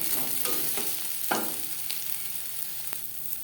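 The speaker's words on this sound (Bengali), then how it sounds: "ক্রিস্পি করে ভেজে নেব" Okra (bhindi) being stirred and turned in hot oil as it crisps, a continuous bright sizzle with occasional spatula scrapes and soft clicks, close and without speech.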